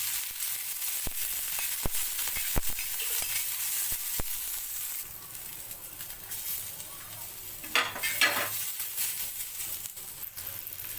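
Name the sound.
dry-roasting coriander, coconut, onion and rice in oil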